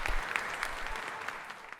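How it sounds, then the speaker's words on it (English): Applause from a conference keynote audience, a steady wash of clapping hands throughout, moderately loud with no voices on top. "Let's give them a round of applause."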